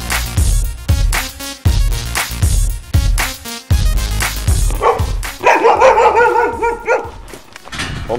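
A dog barks loudly and close in a rapid series of sharp barks, then shifts into higher whining yelps and whimpers toward the end.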